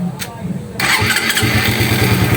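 Motorcycle engine with freshly replaced head and shims, a noisy Raider, cranks and catches after a brief pause, settling into a steady close, loud idle with a throbbing low rhythm.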